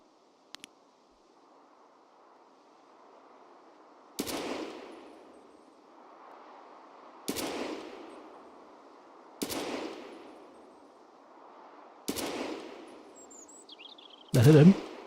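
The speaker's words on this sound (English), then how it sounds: "I want to see if I can hit that shot with the AK" AK rifle shots in the video game Escape From Tarkov, five sharp single reports spaced a few seconds apart, each trailing off in a ringing echo over a low steady hum, with a faint bird chirp near the end.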